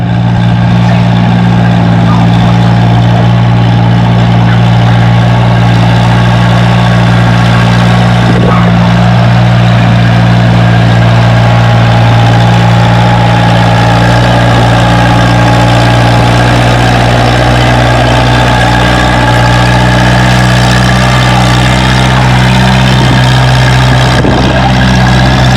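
A pulling vehicle's engine runs at a tractor pull at the Spring Nationals near Othello, Washington, a steady heavy low drone with strong harmonic hum, continuous and loud throughout, with faint commentary beneath.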